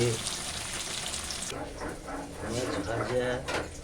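Pumpkin pieces sizzle steadily in a hot pan in a home kitchen, a dense close hiss that runs throughout, with voices talking over it in the second half.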